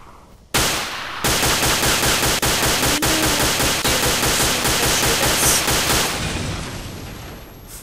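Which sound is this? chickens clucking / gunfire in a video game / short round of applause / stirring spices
gunfire in a video game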